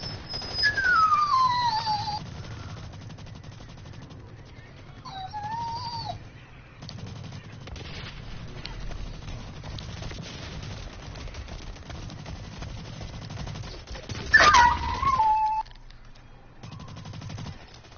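Gunfire crackles in a shooter video game, with bursts of rapid shots and single pops scattered through a quiet, muffled background, alongside whistling game effects and no speech.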